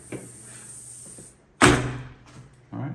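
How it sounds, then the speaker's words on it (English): A newly installed swinging screen door is pulled shut, a few light creaks and taps leading to one loud slap as it closes, with another softer knock just after. "And so let's try to shut the door."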